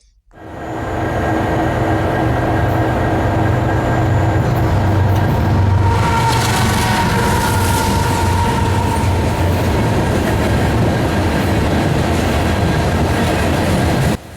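A freight train with locomotives passes close by, building to a loud, steady rumble with rolling wheel noise and a faint horn-like tone, continuing without pause.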